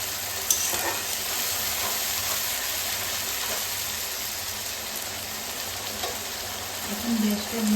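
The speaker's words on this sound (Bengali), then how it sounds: "আদা রসুনটা ভাজা ভাজা হয়ে গেছে।" Ginger-garlic paste frying with browned onions in a pan for chicken curry, heard as a steady, close hiss of sizzling with occasional stirring scrapes and a brief knock near the end, no voices.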